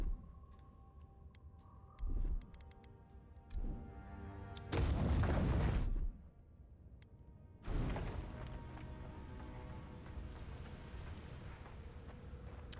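Grenade blasts in the fantasy action game Avowed: several heavy booms, one short and two longer roaring bursts, then a sustained rumbling wash, loud against a quiet background with no talking.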